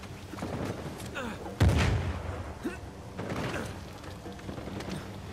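Rocket launcher fire in the video game Uncharted 4, heavy booming blasts: one loud close impact followed by further rumbling explosions and scattered crashes, with shouting voices around them.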